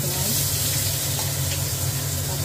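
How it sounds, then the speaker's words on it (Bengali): Raw onions hit hot oil already seasoned with crushed garam masala and bay leaf, giving a loud, even, continuous sizzle up close with no pauses. "পেঁয়াজটাকে এবার একটু ভাজবো।"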